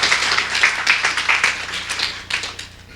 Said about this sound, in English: So a big round of applause to all of our sponsors.